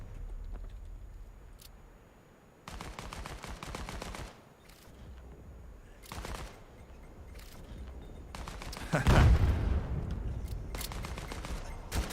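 Grenade blasts in the VR shooter game Vail during a competitive match, heard as several bursts of loud explosive crackle with a heavy boom near the end.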